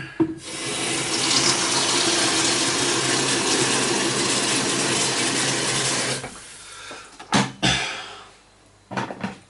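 Hot water pours from a tap into a bowl in a steady, loud rushing stream for about six seconds, then stops, followed by a few brief clunks and splashes close by.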